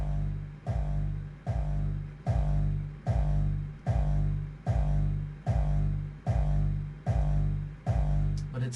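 Hardstyle kick drum processed with clip distortion and EQ, hitting about ten times in a steady, evenly spaced pattern, each kick loud and booming with a punchy attack and a long distorted tail.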